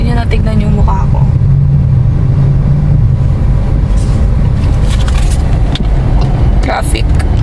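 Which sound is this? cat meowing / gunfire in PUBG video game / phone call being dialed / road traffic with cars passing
road traffic with cars passing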